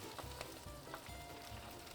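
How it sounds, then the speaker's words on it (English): Steady crackling sizzle of spinach frying in a hot skillet, with sharp little pops and snaps scattered throughout. "when you hear that sizzle and that snap, it's exactly what we want to hear"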